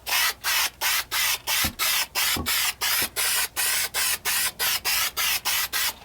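3M Super 77 spray adhesive hisses from the can in a steady run of short, even bursts, about two per second, close and fairly loud with no voices.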